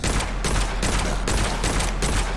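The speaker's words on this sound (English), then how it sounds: "that guy that's over there that is randomly shooting at us" Enemy gunfire in the first-person roguelike game Witchfire comes as dense, loud volleys of rapid shots in several bursts with brief gaps.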